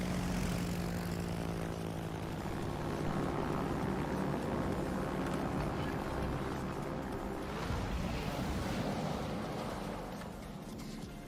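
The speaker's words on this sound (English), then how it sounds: "These planes are too fast." Propeller aircraft in a World of Warships naval battle drone past with a steady, loud engine roar that swells and fades over several seconds, layered over engine and sea noise, without talk.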